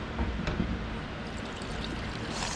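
Hibiscus tea being poured from a container into a flower-shaped jello mold, a continuous close liquid splash and trickle, steady and fairly loud throughout.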